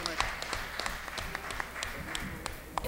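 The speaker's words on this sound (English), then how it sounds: "So give a clap to the panelists and our moderator." At a Caribbean panel discussion event, an audience claps for the panelists and moderator, with scattered, fairly quiet claps over a murmur of voices and room noise.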